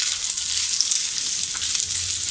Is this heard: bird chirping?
no